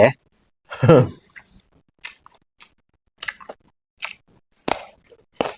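Crisp, close-up crunching as someone bites and chews large round raw Thai eggplant, eaten as a side vegetable with mala grilled skewers; several distinct crunchy bites separated by short pauses.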